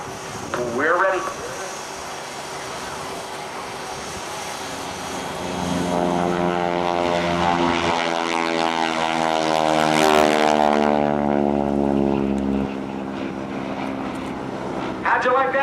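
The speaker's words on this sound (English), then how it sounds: "Let's listen from the right as Bill changes the pitch or the bite of the angle of the propellers to really get that big growl in it." A propeller airplane roars past overhead at an air show, its deep growling engine swelling loud then fading, with a brief voice at the start and end.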